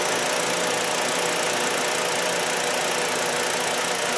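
A 2008 Volkswagen Beetle 2.5L engine idles steadily with a charging-system fault, a continuous broadband engine drone with faint knocking and no speech.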